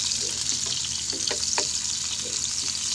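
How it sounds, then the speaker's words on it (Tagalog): Bitter gourd, or ampalaya, with onions and garlic cooks in a pan, giving off a close, steady frying hiss with a few soft bubbling pops in a brief stretch of sound without speech. "cooking ampalaya"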